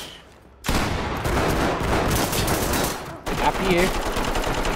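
Gunfire in a SWAT video game erupts in a dense, loud burst of rapid shots, breaks off for a moment, then resumes, with brief talk in between.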